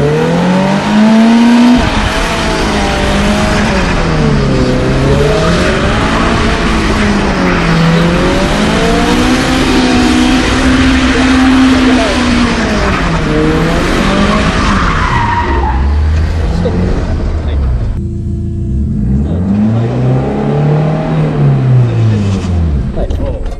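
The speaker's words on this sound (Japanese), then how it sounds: "これに逆反つって反対にハンドル切るとドリフト状態になるんです" A car drifts around pylons with tires skidding and squealing loudly, the engine revving and its pitch swooping up and down, then dropping briefly before another long skid; voices talk faintly underneath.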